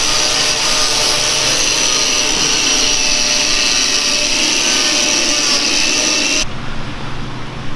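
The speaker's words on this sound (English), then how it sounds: "we use a wire wheel brush in order to scuff that surface" A power tool with a wire wheel brush grinds steadily against aluminum body metal on a 1978 FJ40, a loud continuous abrasive whir that cuts off near the end, leaving a quieter hum.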